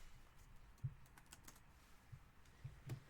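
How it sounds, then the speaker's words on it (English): Soft, quiet clicks of fingers typing on a computer keyboard, scattered irregular keystrokes at close range in a calm room. "Let me type in the chat."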